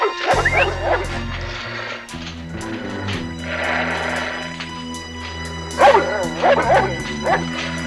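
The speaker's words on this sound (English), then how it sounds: "Hello, doggy." A dog barks and yips in a series of sharp, close bursts, with whimpering tones in between, over a steady low musical bed.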